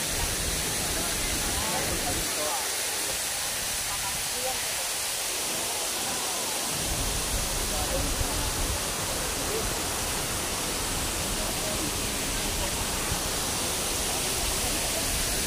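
Hinulugang Taktak waterfall rushes in a dense, steady roar of falling water that stays loud and constant throughout, nearly drowning out everything else.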